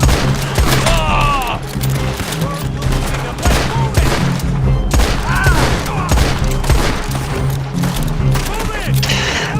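Gunfire in the online Western shooter Red Dead Online, a loud, dense fusillade of rapid shots and booming reports that runs throughout, with voices talking over it.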